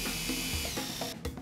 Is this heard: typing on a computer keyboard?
no